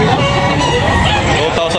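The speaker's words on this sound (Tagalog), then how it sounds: "Daming manok mga kapakit." Many chickens crowd a poultry market in Tabunok, with loud, close, overlapping crowing and clucking, and people talking among them.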